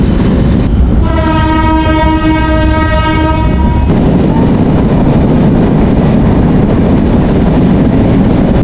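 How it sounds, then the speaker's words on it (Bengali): The Jahanabad Express, running Khulna to Dhaka in Bangladesh, arrives at a railway station: a long, loud horn blast sounds close by, then a heavy, continuous rumble of wheels and carriages rolls past. "আমাদের ট্রেনটি সিঙ্গে রেল স্টেশনে এসে পৌঁছালো"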